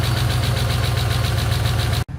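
A Chevrolet Silverado 5.3 V8 idles loudly up close with a rapid, even ticking clatter from noisy lifters over a low engine drone, cut briefly near the end.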